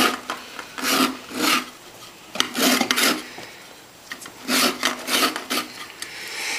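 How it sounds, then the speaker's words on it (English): Orange being zested on a grater, close rhythmic rasping strokes in short bursts separated by brief pauses. "We'll just zest it up here."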